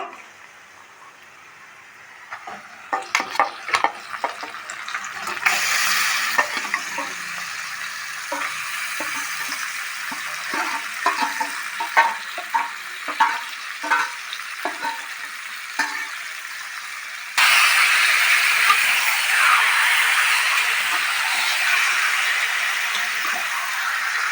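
Marinated chicken for a dhaba-style curry sizzles in a pan of fried onions: a steady close frying hiss with scattered crackles and stirring scrapes, then a sudden louder burst of dense sizzling that holds to the end.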